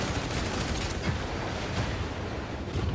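Dense, continuous gunfire from mechs in the PC video game Mecharashi rattles without pause, a loud booming barrage with heavy low rumble and no voices over it.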